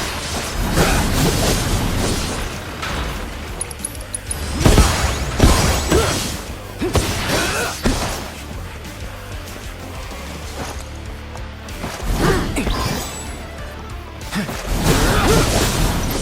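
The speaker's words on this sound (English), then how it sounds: "Destroy all the boxes in this area, then make your way back up the red elevators, making sure to destroy the now destructible gearboxes on the way." Repeated smashing of boxes and gearboxes in a Final Fantasy VII Rebirth Gold Saucer minigame: loud crashes, whooshes and thwacks in irregular bursts over a busy mechanical game backdrop.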